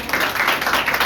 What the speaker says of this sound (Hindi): आराधना के दल के लिए हम जोरदार ताली बजाएंगे